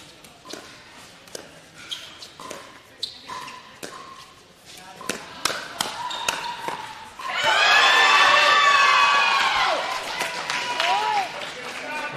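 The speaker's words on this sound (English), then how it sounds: "I like the peers cheering each other on, supporting each other." Crowd cheering and applauding at a Next Gen doubles pickleball match at an indoor-outdoor venue, breaking into a loud sustained roar midway, with paddle pops and people talking before it.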